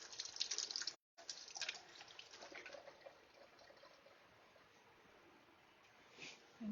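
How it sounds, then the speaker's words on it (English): Hands washed under a running kitchen tap while baking chocolate cake, a steady faint splash of water with a short break near the start, no talking. "now lick my hands, I need to wash them"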